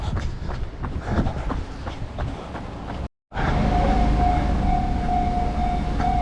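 A train rushes past close by on a Tokyo street, a loud, steady rumble with rhythmic wheel clatter, briefly cut off, then a sustained roar with a faint high tone.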